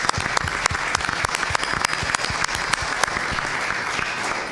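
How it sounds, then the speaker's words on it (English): An audience at a school board of education meeting gives the Edison team a round of applause, steady dense clapping with sharp individual claps standing out, fairly close and continuous for several seconds. "Let's give the Edison team another round of applause."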